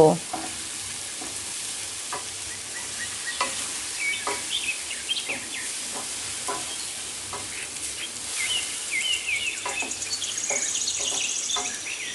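Beef with onion paste and yogurt stir-fried in a pan for a roast, a steady close sizzle with repeated scrapes and clinks of a spoon stirring through the meat, no voices.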